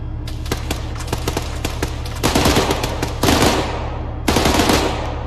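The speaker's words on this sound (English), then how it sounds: "I was hearing gunshots" Video game gunfire, mostly rapid machine-gun bursts with dense repeated shots, loud and close, in several long volleys separated by short gaps.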